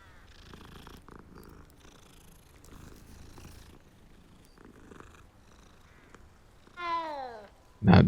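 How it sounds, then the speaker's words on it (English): Cat purring and meowing in Hogwarts Legacy, a soft steady purr under faint game ambience, then a rising meow and a loud closing cry near the end. "It's a kitty."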